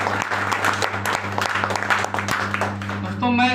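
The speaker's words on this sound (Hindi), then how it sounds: "एक बार जोरदार ताली होना चाहिए सर के लिए" Crowd applause at a health awareness programme, a dense burst of many hands clapping steadily for a few seconds over a low electrical hum, close and fairly loud.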